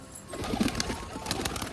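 Pigeons kept at a home rooftop loft coo softly, with a few low throaty calls rising over faint background noise and no talk.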